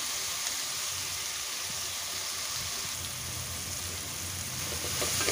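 Ingredients sautéing in a pan for a home-style Sunday lunch, giving a constant close hiss and crackle of frying with no talk over it.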